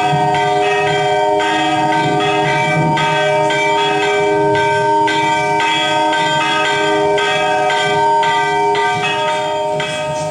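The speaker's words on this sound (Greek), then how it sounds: "Οι καμπάνες τυπούν." Church bells ring continuously and loudly for the whole stretch, layered strikes overlapping in a steady pealing rhythm with no voices.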